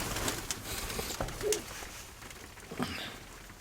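Soft pigeon coos sound faintly amid light rustling and scattered taps, a few brief calls spread over a few seconds.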